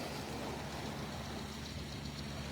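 A tractor engine idling at a distance outdoors on a muggy morning, a steady low rumble, faint and continuous with no talk.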